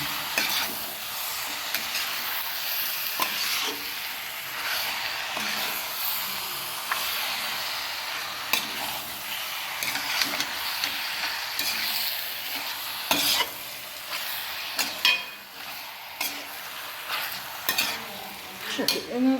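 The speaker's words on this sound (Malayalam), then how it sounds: "ഇനി നമുക്കിതൊന്ന് പതുക്കെ ഇളക്കി മസാലയ്ക്ക് ഒന്ന് യോജിപ്പിച്ചെടുക്കണം." Chicken tossed with masala in a frying pan, a steady close sizzle and hiss with a spatula scraping and stirring through it in irregular strokes, no talking.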